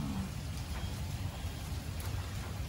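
Steady rain falls outside a hotel on Ishigaki Island, a constant soft hiss with a low rumble of city background, heard alone and evenly throughout.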